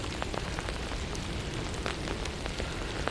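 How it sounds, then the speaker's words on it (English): Steady rain falls outdoors, a dense, even patter of drops striking surfaces nearby, continuous and moderately loud with no voices. "the rain's really picking up now"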